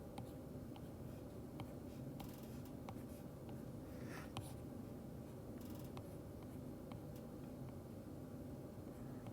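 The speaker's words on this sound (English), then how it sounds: "I don't know if I can draw a couch very well" A marker scratches and squeaks across a board while a couch is sketched, faint and intermittent strokes over a steady low room hum, with no one speaking.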